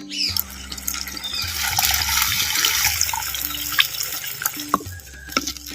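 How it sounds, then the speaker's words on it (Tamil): Tamarind water, made from a gooseberry-sized piece of tamarind dissolved in 200 ml of water, poured into a clay pot for gooseberry rasam. It gives a continuous close splashing pour with a few drips and small clinks near the end, and no voices. "நெல்லிக்காய் சைஸ் புளியம்பழத்தை இரநூறு எம்எல் தண்ணியில் இப்போ கரைச்சி சேர்த்துக்கிறேன்"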